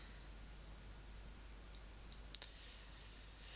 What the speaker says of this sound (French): Hop, je clique sur supprimer.